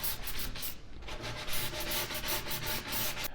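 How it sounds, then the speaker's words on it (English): Hand sanding with 150-grit paper along the edges of a wooden cabinet face frame, rapid rhythmic scratchy back-and-forth strokes, close and steady with no talking. "I take a piece of 150 paper and go around and break all of the edges"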